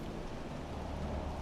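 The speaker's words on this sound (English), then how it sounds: "Rain here." Steady rain pours down in a video game scene, a dense, even hiss that fills the whole moment at constant loudness with no voices over it.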